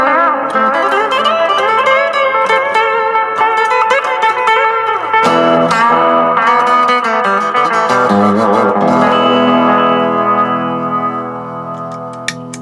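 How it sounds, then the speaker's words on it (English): An electric guitar played through a digital delay setting on a NUX effects pedal, sustained chords and notes with trailing repeats and echoes, loud and steady before fading out at the end. "So 6 is just a digital delay."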